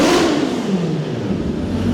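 A Mini fitted with a supercharged Kawasaki H2 engine revs loudly and up close. The engine's whine sweeps down and then climbs again under a heavy, steady roar.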